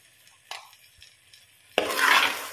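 Chicken curry with salt being stirred in a pan, a low quiet sizzle with a soft spoon scrape, then a sudden louder burst of sizzling and scraping near the end.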